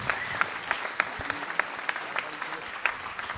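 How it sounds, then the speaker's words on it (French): An audience applauds Philippe Armary with a steady roar of clapping, marked by distinct, close, sharp claps that recur at a regular rhythm. "Vous pouvez applaudir Philippe Armary."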